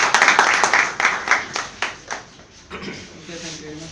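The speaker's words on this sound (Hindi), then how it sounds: "चलिए बहुत बहुत तालियों के साथ" Audience clapping at a book launch event, a burst of applause that thins into scattered claps and fades, with voices talking over it near the end.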